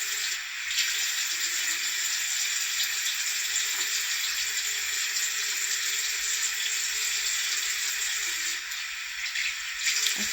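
Tap water runs steadily from a faucet into a bathroom sink while a face is rinsed off, a continuous hissing splash that holds for about ten seconds with a slight dip near the end, no talking.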